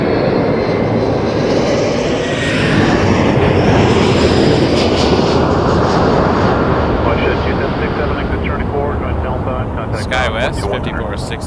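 An Embraer 175 jet roars past at Toronto Pearson airport on a winter day, loud and continuous for the whole stretch, swelling and then slowly easing, with a faint voice in the background.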